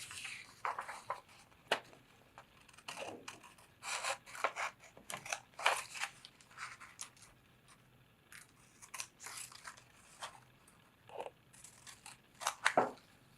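Scissors snip through material to cut out a stomp rocket fin, with irregular bursts of close, crisp cutting and crunching sounds separated by short pauses, fairly quiet, with no talking.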